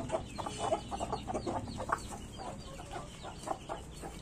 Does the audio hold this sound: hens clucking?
yes